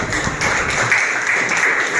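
Students in a classroom clap for a student group after its presentation, producing a brief, busy burst of close, steady clapping.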